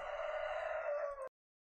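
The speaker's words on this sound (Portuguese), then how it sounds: "Esse galo não vai parar de cantar, não?" A rooster crows nearby, one long sustained call held loud and clear before cutting off abruptly, with no talking.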